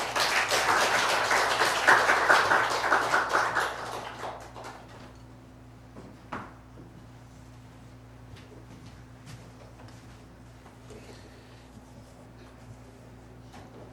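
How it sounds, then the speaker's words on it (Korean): A church congregation applauds a visiting missionary at a Sunday afternoon service: dense, steady clapping fills the first four seconds, then thins and fades into quiet room hum with a few scattered taps. "박수로 모시겠습니다"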